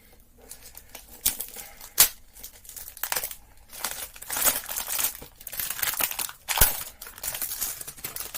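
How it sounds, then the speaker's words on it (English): Fragrance packaging being unboxed, with Navitus Parfums Exalt Nuit packaging crinkling and tearing in close, irregular bursts and a few sharper crackles. "So I'm going to unbox this"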